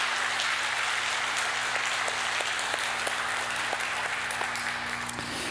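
Congregation applauding during a Sunday worship service at Gyulhyeon Church, steady, loud, full-room clapping that continues throughout with a constant low hum underneath.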